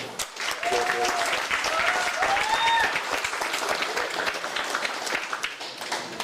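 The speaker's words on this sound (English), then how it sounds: "Clap it up for him." Applause at a high school sports awards ceremony for a football award winner: steady, full crowd clapping that fills the whole stretch, with some cheering voices over it.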